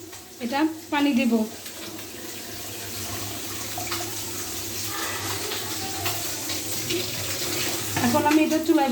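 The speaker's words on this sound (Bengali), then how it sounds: "এখন আমি এটা পানি দেব।" Water is poured into a pot of lentils, a steady splashing flow close by that runs for several seconds, with someone speaking briefly at the start and end.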